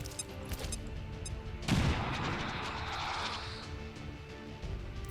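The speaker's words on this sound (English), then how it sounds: "So we're going to use a grenade. Blow out his cover." A grenade explosion in the video game X-COM 2, a sudden heavy blast partway through followed by a long rumbling, crackling decay, set against quieter game ambience.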